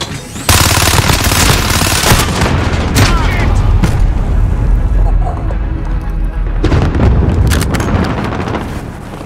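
Call of Duty Modern Warfare team deathmatch gameplay roars with a booming grenade explosion and bursts of rapid gunfire, loud and dense across the whole stretch, with in-game voice callouts mixed in.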